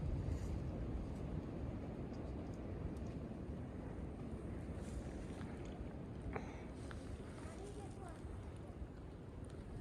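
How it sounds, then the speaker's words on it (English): Wind rushes in a low, continuous roar along the Appalachian Trail near Hawk Mountain Shelter in March. The gusts buffet the microphone, with a few faint clicks and rustles over the drone. "You can probably hear all that wind blowing through the trees."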